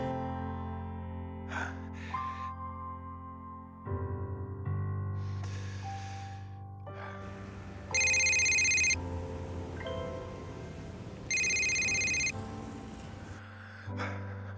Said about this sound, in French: Réponds au téléphone.